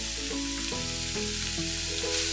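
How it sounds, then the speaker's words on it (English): Meat sizzles in hot oil with bell peppers for sloppy joes, a steady, close frying crackle with faint stirring and no talking. "we gotta fry it real good"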